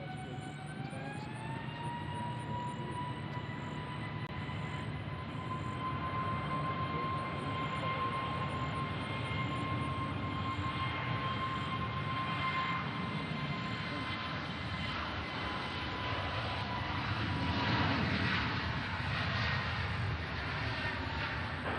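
American Airlines plane arriving at Nashville International Airport, a steady distant engine roar with a rising whine that holds throughout, moderately faint.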